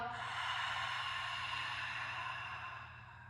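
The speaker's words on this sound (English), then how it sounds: "Inhale and exhale." Steady breathing in and out during a bear offset breathing exercise for the upper body, a long continuous airy inhale and exhale close to the microphone that fades slightly toward the end, with no talking.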